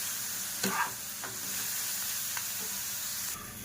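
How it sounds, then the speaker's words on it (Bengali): Chow mein is stir-fried with a little soy sauce in a pan, giving a quiet, steady sizzle broken by a few sharp scraping stirs and clinks. It sounds close-up, with no talking. "অল্প একটু সয়া সস দিয়ে এটাকে ভালো করে মিক্স করতে হবে"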